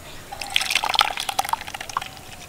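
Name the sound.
blended watermelon straining through a sieve into a bowl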